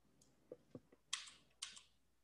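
Computer mouse clicks while modelling in 3D software, a few soft separate clicks followed by two sharper, brighter clicks, close up and quiet with no voice.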